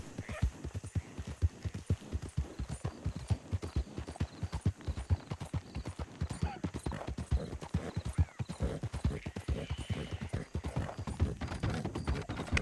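Horse hooves clip-clop in a video game, a dense run of rapid beats as riders pass, with a faint whinny in the mix.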